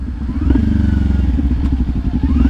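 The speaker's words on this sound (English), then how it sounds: "those downshifts feel amazing" A close Kawasaki Ninja 400 motorcycle engine rumbles and burbles as the revs drop and rise between gears on downshifts, with a rattly exhaust note throughout.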